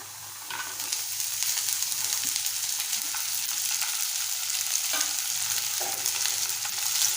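Sprouted black peas stir-frying with softened onion in a hot pan, a steady loud sizzle and hiss throughout with occasional scraping stirs, no voices.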